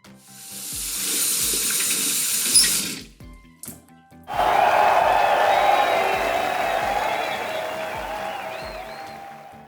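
Water runs steadily from a household tap in a broad, hissing rush, cuts out briefly partway through, then pours again for the rest of the time.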